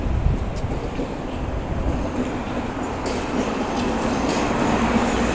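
An electric tram rolls past on its rails with a steady, close rumble and faint clicks, growing a little louder toward the end.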